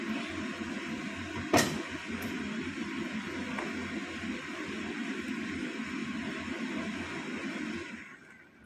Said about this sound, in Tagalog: Maingay yung blower nito.